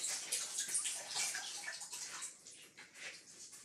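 Water splashes and trickles faintly as shibori-dyed socks are rinsed, a soft, continuous wash of running water close by.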